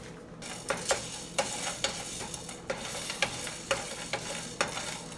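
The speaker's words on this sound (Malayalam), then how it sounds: "ഇത്രയും നമുക്കൊന്ന് ഇട്ട് ചെറുതായി ഒന്ന് ചൂടാക്കി എടുക്കണം ആദ്യം" Whole spices such as cloves and broken cinnamon stick dry roasting in a pan for biryani masala, with a steady soft sizzle and a series of light scraping stirs and taps recurring about every half second, close and moderate.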